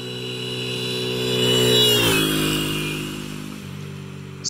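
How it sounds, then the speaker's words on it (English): A motorcycle passes by, its engine tone rising as it approaches and then sliding down in pitch as it moves away, loud at the closest point and fading afterward. "Ah, remember the motorcycle?"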